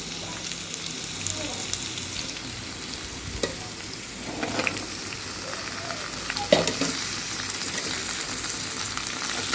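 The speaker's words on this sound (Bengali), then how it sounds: "দিয়ে আমি আলু আর বিনসটা একদম হালকা আঁচে ভাজতে থাকবো" Potatoes and green beans frying together over low heat in a pan, a soft, steady sizzle broken by several stirring scrapes and clinks, close by with no talking.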